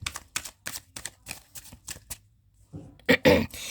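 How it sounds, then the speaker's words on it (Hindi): Tarot cards being shuffled by hand in a series of quick riffling bursts, close and fairly loud, ending with a couple of sharper card snaps; no one talks. "last shuffle"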